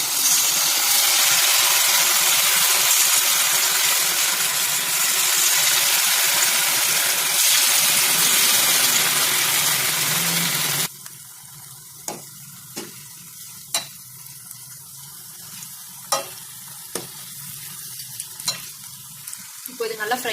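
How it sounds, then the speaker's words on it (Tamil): Cauliflower pieces deep frying in hot oil: a loud, dense sizzle fills the first half, then drops to a quieter bubbling crackle with sharp intermittent pops and scraping clicks. "ஊறினதுக்கப்புறம் நம்ம எண்ணெயில் டீப் ஃப்ரை பண்ண போகிறோம்"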